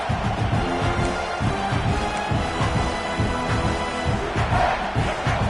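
Dense stadium crowd roar from a college football video game, a steady loud wall of cheering and chanting that holds throughout with swelling surges and no voices standing out.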